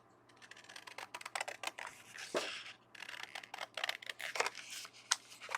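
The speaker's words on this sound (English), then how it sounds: "actually I should use my bigger scissors so that I can get more accuracy" Big scissors cut through card stock in a crafting setting, making a fast series of crisp, close snips and rustles, quiet and steady with no talking.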